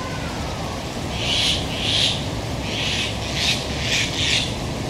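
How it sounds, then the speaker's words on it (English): A bird calls in repeated harsh, raspy bursts, about six in a row, over steady outdoor background noise at a museum in Bangkok, Thailand, while it attacks a large lizard. "there's a bird here, and he's attacking this lizard."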